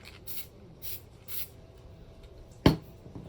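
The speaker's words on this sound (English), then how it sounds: "I'll spray a little bit up here at the top" A spray bottle spritzes three short, soft bursts about half a second apart over a shirt being prepared for a heat press, followed by a sharper thump near the end; quiet and close with no talking.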